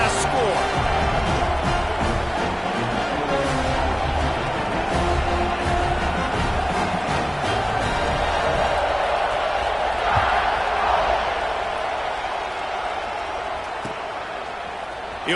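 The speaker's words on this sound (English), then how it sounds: "this crowd is buzzing after that last score" A stadium crowd in the NCAA 26 college football video game keeps up a steady, dense roar that swells slightly in the middle. A commentator talks over it.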